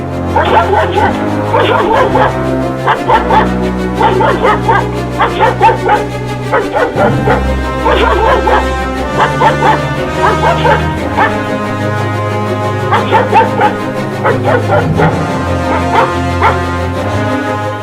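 Dogs bark and yip repeatedly along a dark road at night, the sound close and continuous over a droning musical bed, with whimpering mixed among the barks.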